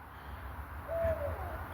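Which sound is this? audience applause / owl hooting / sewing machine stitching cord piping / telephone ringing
owl hooting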